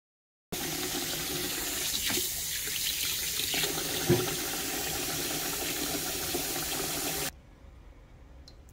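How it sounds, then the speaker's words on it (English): Rice being rinsed in a kitchen sink under a running tap, a steady close rush of water splashing into the grains for several seconds before the flow shuts off abruptly, leaving a quiet room. "Now this is me washing my rice."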